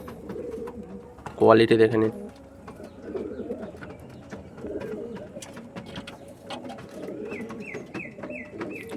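Andhra pigeons, tournament-quality birds kept as a pair, give a short, loud burst of cooing near the start, then quieter calls and movement continue while someone talks over them.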